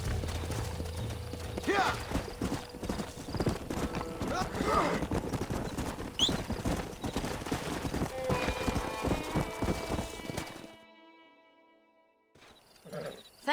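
Horse hooves clip-clop at a gallop in Red Dead Redemption, a rapid loud drumming with snorts and a whinny, briefly under a short spoken reply before the hoofbeats stop and fade to near silence.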